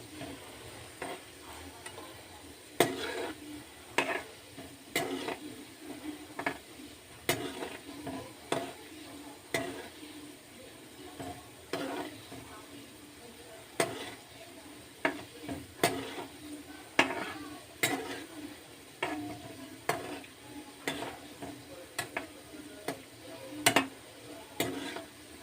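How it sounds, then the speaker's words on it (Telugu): A spoon stirring sugar syrup for gulab jamun in a pan, a quiet steady sizzle broken by regular scraping clicks and taps as the spoon sweeps around, recurring every second or so. "మధ్య మధ్యలో ఈ పాకాన్ని కలుపుకుంటూ ఉండాలండి."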